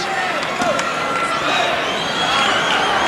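A packed crowd roars in a basketball arena at a 1981 NCAA championship game with Potsdam State, a steady loud wash of cheering with a voice talking over it.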